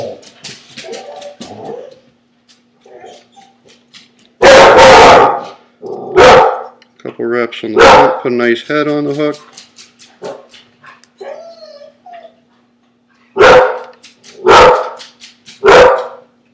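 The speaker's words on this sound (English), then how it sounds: "Pardon the dogs barking." Dogs bark in loud, sharp bursts nearby, some clustered, others spaced apart, while someone talks quietly in between.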